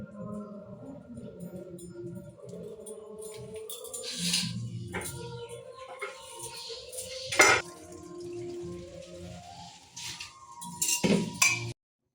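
Apple and dates cut with a knife for homemade baby food in a village kitchen, giving soft, quiet clinks and taps of metal and dishes at close range, with a few sharper knocks and a little water.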